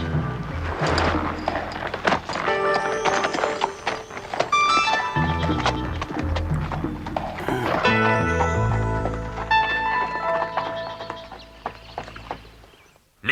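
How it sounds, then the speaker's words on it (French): Racehorses gallop through the final bend of a race, their hoofbeats thudding and clopping under loud, busy animated-style music that carries on throughout. "Les chevaux sont dans le dernier virage."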